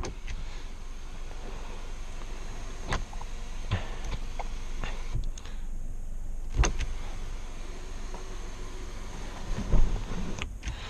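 Electric sunroof on a base-model Jaguar XE 25t tilting and then sliding halfway back, a soft motor whir inside the quiet cabin, punctuated by a few faint clicks and a small thump near the end.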